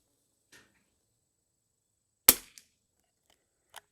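Semi-automatic rimfire rifle shots at a vintage rimfire shooting challenge: one sharp, loud crack stands out, with a faint distant pop before it and another moderate shot near the end, spaced by quiet gaps.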